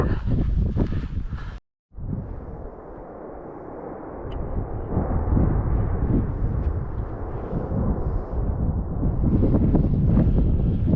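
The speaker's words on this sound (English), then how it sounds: "you can certainly hear the wind getting up" Strong wind gusting over a hilltop summit on a winter hike in the Lake District, a loud continuous roar buffeting the microphone throughout, with a brief dropout near the start.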